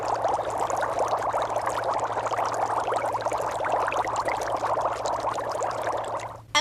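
Air blown through a tube into a water-filled jar gives a steady, continuous bubbling and gurgling for several seconds, close and fairly loud, ending abruptly with no talk.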